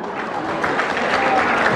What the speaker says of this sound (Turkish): Alkış sesi duyuyorum.